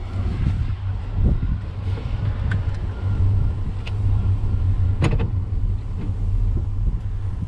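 A 1993 GMC 1500 pickup, revived after sitting ten years, idles with a steady low engine rumble while being shifted into gear, with a few sharp clunks and clicks over the running motor.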